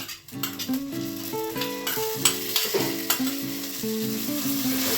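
Hot tempering is poured into khichuri in a pot, a bright loud sizzle over a background of steady tonal music, with a few knocks and scrapes near the start.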